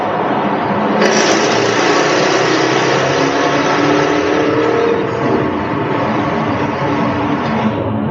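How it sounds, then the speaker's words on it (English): A loud, steady engine roar from a Jaguar F-Type R AWD with exhaust flaps open fills the whole stretch, a dense rasping exhaust drone that holds constant without a break, close and sustained. "I'm going to open the flaps and the exhaust."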